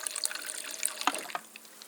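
Water from a fridge dispenser pours into a glass, a short splashy trickle with a few drips that fades out toward the end.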